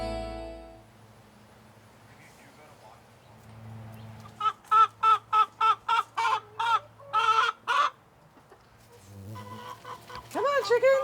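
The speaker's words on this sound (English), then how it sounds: "Come on, chickens." Chickens cluck and squawk in a rapid burst of about a dozen sharp calls, close and fairly loud, with quieter clucking before and after over low background hum.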